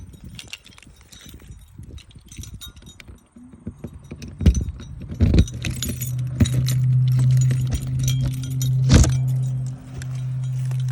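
Keys jangle and clink while someone locks a storage compartment on a 2018 Forest River Patriot Edition camper, with scattered metallic rattles, sharp clicks and a low steady hum in the background.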